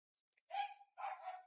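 A dog barks twice from nearby indoors, two sharp separate barks after a moment of quiet, each one trailing off briefly.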